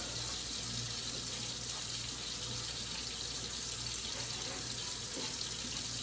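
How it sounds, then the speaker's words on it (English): Water runs steadily from a kitchen tap as hands are washed beneath it, a constant close gushing splash with no break. "Wash my hands."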